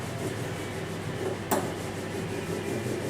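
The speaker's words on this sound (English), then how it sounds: "quick bit of bulb rolling. Just going to push out any resin from that bit." A bubble roller pressed over resin-soaked fiberglass laminate during a surface repair gives a soft, steady rubbing rasp, close and quiet, with one brief sharper scrape midway.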